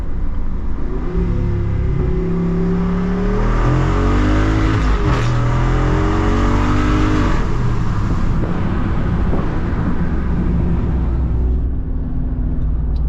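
A Jeep Wrangler Rubicon 392 accelerates hard, its engine note climbing steadily and dropping at each gear change, heard from inside the cabin with a constant loud road roar.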